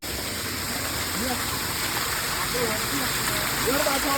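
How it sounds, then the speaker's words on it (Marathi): Steady broadband rush of a waterfall at Malshej Ghat fills the whole clip, loud and continuous, with faint voices barely audible beneath it. "हे बघा हा बघा धबधबा"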